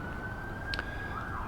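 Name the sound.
siren of a passing emergency vehicle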